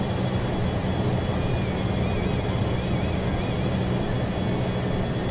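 A Boeing 737-200 in the FlyJSim flight simulator climbs after takeoff, its engines a constant, loud, broadband roar with a faint tonal whine, steady from start to finish.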